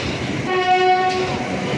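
The Kaviguru Express rumbles along between Howrah and Rampurhat, a loud, steady rolling drone from close by, with a brief horn tone sounding in the middle.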